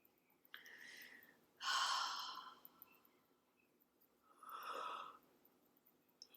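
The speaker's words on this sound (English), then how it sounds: "Yawning is your body stretching on the inside" Slow, breathy yawns from a person, two long drawn-out exhalations separated by quiet pauses, soft and close in an otherwise silent room.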